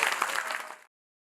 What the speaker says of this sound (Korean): 다들 박수 한번 해주세요.